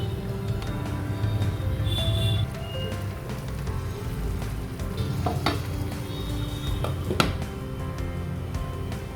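Chicken simmers covered in a pot over a medium flame for Bengali chicken biryani, a soft continuous sizzle and bubbling with a low rumbling hiss and occasional faint clinks, steady throughout.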